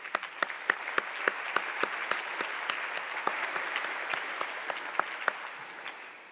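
Audience applause at a school's annual address ceremony, a steady wash of many hands clapping with a few sharper individual claps standing out, sustained and moderately loud throughout.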